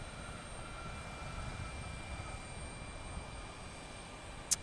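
An Embraer E-175 regional jet coming in to land sends a faint, steady, distant roar across the airfield, with no distinct peaks, only one brief sharp tick near the end.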